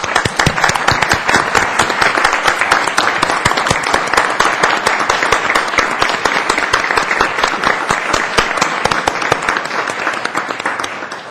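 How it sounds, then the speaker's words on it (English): A council meeting audience breaks into loud, sustained applause, many hands clapping densely and evenly for over ten seconds before tapering slightly at the end. "I'd like to just have all of us give a round of applause and thanks to Lynn Hollowell for her service to the city."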